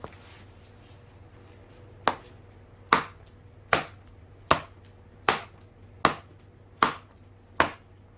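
Eight sharp leather smacks arrive at steady intervals, a ball landing firmly in a glove again and again over quiet background hum.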